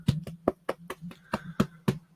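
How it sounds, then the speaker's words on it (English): A big fat dog being patted by hand, about ten soft, fleshy slaps in an uneven rhythm, close and fairly loud, each with a low thumping body. "this is the sound of a blubber dog being patted"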